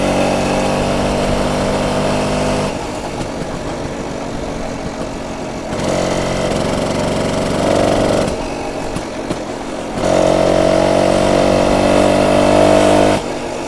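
A 1967 BSA Bantam D10 175 motorcycle engine runs steadily for the whole stretch, its note rising and falling as the revs shift between an idle and brief louder bursts, close by with no talking.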